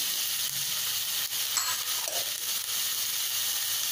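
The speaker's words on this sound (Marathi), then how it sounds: "हे मटार घालते ताजे." Fresh peas added to a pan of bhogichi bhaji, a Maharashtrian mixed vegetable dish, bring a steady high-pitched sizzle with a few faint stirring scrapes, close and continuous, with no talking.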